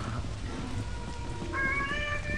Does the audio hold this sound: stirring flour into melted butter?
no